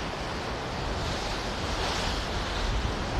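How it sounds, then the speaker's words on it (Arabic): Wind and surf roar continuously at Ageeba beach on the coast of Marsa Matrouh, a dense, steady wash of waves and gusts buffeting the microphone with no voices. "مش عارف بقى صوت الهوا ده باين ولا لا، المايك هل هو مش جايب الهوا ولا لا"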